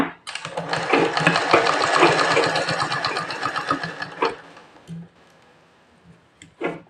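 A sewing machine stitches a prince-cut blouse with a fast, loud mechanical rattle for about four seconds, then stops, leaving a few faint clicks and a final short burst of stitching.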